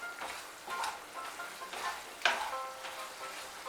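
Moringa drumsticks and potatoes being stirred in a hot pan for a Bengali chorchori, with a soft, steady sizzle and intermittent scraping stirs, one sharper knock near the middle; quiet, close and with no voices.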